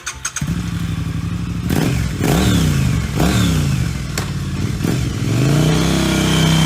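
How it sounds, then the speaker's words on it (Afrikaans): A motorcycle starts with a thump, idles, then revs hard several times in rising bursts before settling back into a loud, close engine rumble. "Dit is 'n motorfiets."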